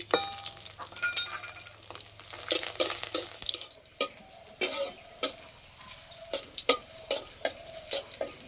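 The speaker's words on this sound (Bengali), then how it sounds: "এবার দেবো থেতো করা রসুন।" Crushed garlic frying in mustard oil in a pan gives a broad sizzle that settles into a quieter hiss, broken by repeated clicks and taps of a stirring spoon, with no talk.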